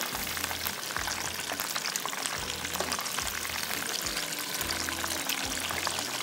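Chicken wings deep frying in hot oil give a steady, dense bubbling hiss, with a low rhythmic thumping underneath recurring about every second.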